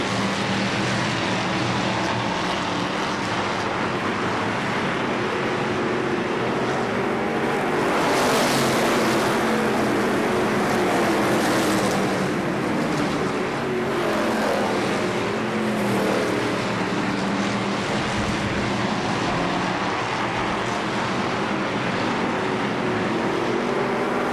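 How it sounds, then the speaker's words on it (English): Race cars roar around a speedway track in a continuous loud engine drone, with cars swelling past in dense overlapping waves and no speech. "Green flag comes out, and we are racing."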